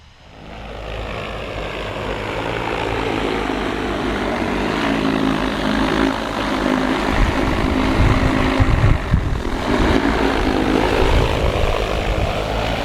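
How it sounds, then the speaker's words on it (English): An AUAV A70 agricultural drone flies back over a field after its last waypoint, giving a steady, loud propeller drone and buzz that swells in and holds for about twelve seconds, with no talk. "the drone has hit its final waypoint in our mission here, and now it's going to turn around and come back home."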